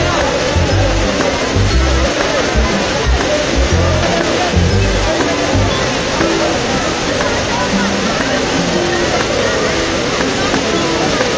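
Kempty Falls in Mussoorie roars as a dense, continuous rush of falling water, loud and close, with a faint murmur of crowd voices blended into the wash.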